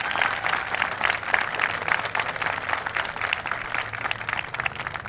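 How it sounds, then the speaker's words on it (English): Steady, dense applause from an audience fills the whole stretch at a high school world language department induction ceremony, with no voices rising above it. "Big round of applause, please"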